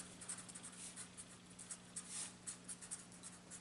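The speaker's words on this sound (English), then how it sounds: "So let me write that down." Pen strokes scratch faintly across paper in quick irregular bursts as a calculus equation is written out, with a low steady hum underneath and no talking.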